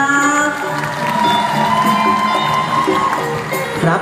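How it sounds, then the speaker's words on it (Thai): An audience at a Thai country-music school band performance cheers and applauds, a steady wash of crowd noise with shouts and whoops, loud and sustained throughout. "เสียงปรบมือเป็นกำลังใจให้กับพวกเราอีกสักครั้งครับ"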